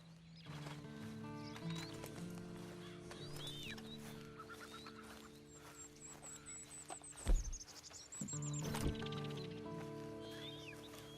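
Horse hooves clip-clop at a steady pace in Red Dead Online amid a busy game soundscape with birdsong, clucking hens and a couple of sharp thuds.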